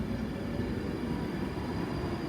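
A debranded Virgin Trains Class 390 Pendolino electric unit departs Wigan North Western at night, a steady low rumble of wheels and traction noise, close and continuous with no talking.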